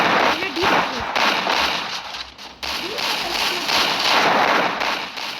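Gunfire in Free Fire Max crackles in repeated bursts beneath a steady wash of in-game noise, with someone talking over the shots throughout.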